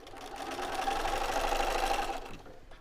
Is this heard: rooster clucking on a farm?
no